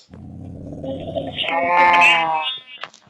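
A loud, drawn-out video game sheep bleat rises and wavers over a low background hum, ending with a short click.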